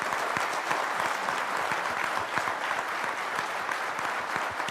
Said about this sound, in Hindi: वो लोग ताली बजाएं।